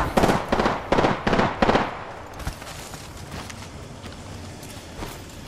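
Apex Legends gunfire rings out in five loud, rapid bursts close up, then gives way to softer scattered shots and game ambience, no talking.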